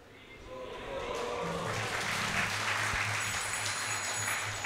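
Clapping from a podcast audience rises and holds steady for several seconds, with a voice talking over it and a low tonal hum underneath.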